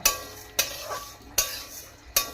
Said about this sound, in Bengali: প্রথমে একটা কড়াইতে 250 গ্রাম মুগ ডাল নিয়ে এটা ভাজতে শুরু করে দিলাম।